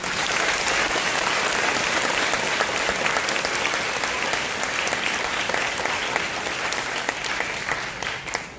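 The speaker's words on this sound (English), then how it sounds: "Please join me in a round of applause for these members." A school audience applauds members of a National Junior Honor Society at a ceremony, a loud, steady round of clapping that fills the space and slowly tapers at the end.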